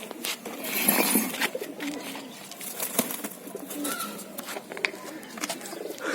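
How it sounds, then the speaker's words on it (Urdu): Soft, low coos from a teddy pigeon sound faintly nearby amid light background rustling and noise. "دیکھیں دوستو کتنا خوبصورت کبوتر ہے"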